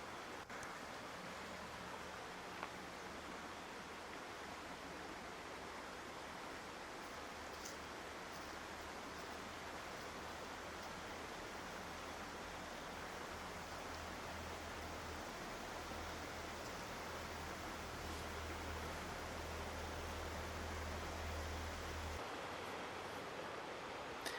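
A mountain river in the Great Smoky Mountains near Gatlinburg flows over ancient rocks, giving a soft, continuous rushing wash, faint and even throughout with no voices.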